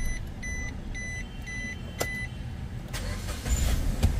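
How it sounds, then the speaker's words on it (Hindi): A Maruti Wagon R with a long-cranking starting fault gives a few repeated electronic beeps and clicks, then the engine cranks and catches near the end, rising to a louder rumble, heard close and without talk. "हाफ सेल्फ में गाड़ी स्टार्ट है"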